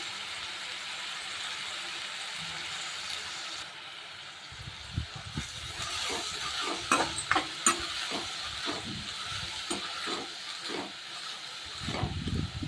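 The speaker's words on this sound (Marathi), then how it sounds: "तेल टाकलं होतं आणि जिरी मोरीचा तडका दिलाय मी आता मटकी थोडीशी फ्राय करून घेते" Sprouted moth beans fry in oil with a cumin tempering in a kadhai: a soft hiss that thickens into crackling spatters, with sharp pops and stirring scrapes in the second half.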